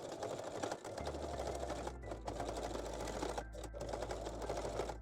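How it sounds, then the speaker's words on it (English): Sewing machine running a straight stitch on lingerie straps, a fast steady mechanical whirr and rattle with short pauses between bursts, close and clear. "stitch them down with the straight stitch"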